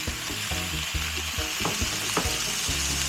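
Tilapia being stir fried in a hot pan with pineapple tidbits, giving a constant close sizzle broken by rhythmic scraping and clattering of a utensil against the pan.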